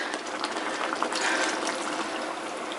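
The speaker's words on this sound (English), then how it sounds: "a little bit of water to it, which is about 1 litre of water" About a litre of water poured into a pot of macaroni soup mix, a steady broad splashing pour running evenly for roughly three seconds at moderate level, with no talk.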